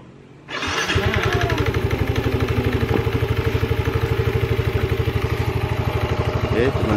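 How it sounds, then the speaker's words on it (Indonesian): A Soul GT 125 scooter's small engine catches after a brief cranking moment, then settles into a steady, close, putt-putting idle with a regular pulsing rhythm. "Oke, kita hidupkan dulu motornya."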